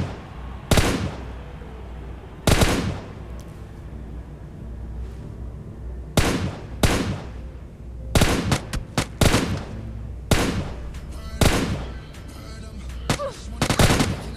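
Bursts of automatic gunfire in a shooter video game, roughly a dozen sharp loud volleys spaced irregularly over a low steady background hum, with several rapid clusters of shots in the middle.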